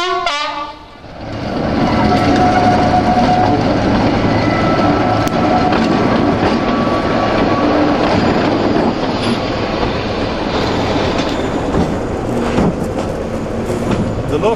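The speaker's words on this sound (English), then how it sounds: "The locomotive has now gone fully across the points." A Class 25 diesel locomotive rolls slowly over railway points on a heritage line, giving a steady, loud mechanical rumble with rail clatter and occasional squeals, sustained close by throughout with no talk.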